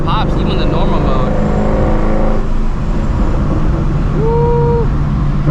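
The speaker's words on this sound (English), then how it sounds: "It still backfires and pops even in the normal mode." A supercharged Shelby GT350 cruises with its exhaust droning loudly, punctuated by pops and backfire crackles, while a person talks over the engine noise.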